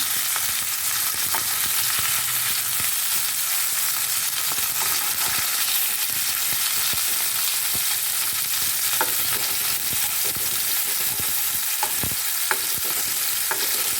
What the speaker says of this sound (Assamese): আমাৰ মাছখিনি এটা চাইডে ভজা হৈ গৈছে, এতিয়া মই লুটিয়াই দিম।